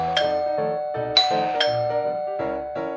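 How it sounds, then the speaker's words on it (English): A clubhouse doorbell in a children's read-aloud story rings as a clear chiming ding-dong, several bright tones sounding one after another over about three seconds, loud and close with no voices. "Just then, the clubhouse doorbell rings."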